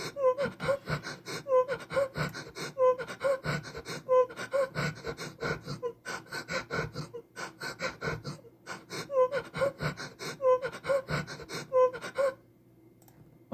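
A recorded vocal line of moaning and panting gasps repeats in rhythmic bursts of breathy sounds, looped over a music track for about twelve seconds before dropping to a quieter tail.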